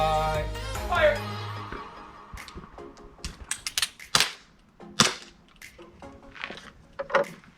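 Handgun shots crack out on the firing line of a shooting range, a quick irregular series of sharp reports spaced apart, loud and close, after the line is called ready.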